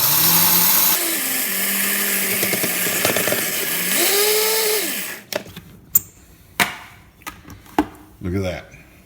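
A countertop blender whirs loudly and steadily for about five seconds, grinding ingredients into cheese powder. A voice rises over the motor, then the motor cuts off, leaving a few scattered knocks and clatters in near quiet.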